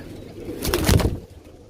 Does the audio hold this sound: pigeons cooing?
yes